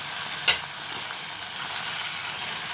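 Pieces of paneer shallow fry in a pan for shahi paneer, a steady even hiss of hot oil with a single brief clink early on and no voices.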